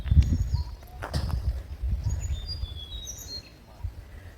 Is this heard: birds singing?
yes